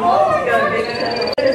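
Frog calls from a Houston Zoo amphibian habitat, a steady layered chorus of trilling tones that runs without a break through the whole moment at moderate loudness, with a quiet voice faintly underneath.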